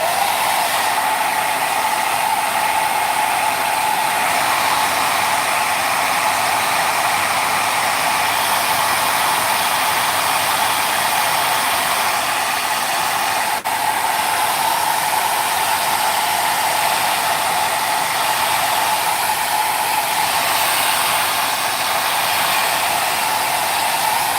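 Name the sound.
hair dryer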